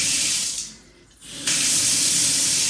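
Kitchen tap spraying water in a steady loud hiss into the sink, briefly cut off and dropping away for about a second before the spray resumes at full strength.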